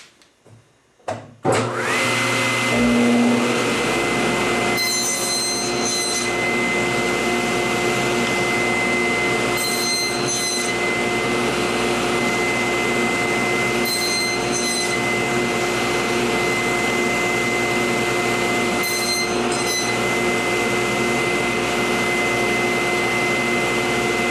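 A power tool starts up and runs steadily while cutting dovetail tails in wood, a loud sustained whine with a low hum and periodic brief high-pitched bursts.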